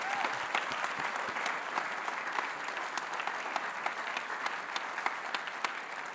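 A crowd applauds steadily, a dense wash of clapping hands with a few sharper individual claps standing out throughout.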